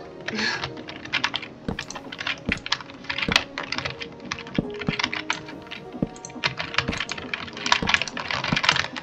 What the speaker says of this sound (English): my keyboard is so loud on microphone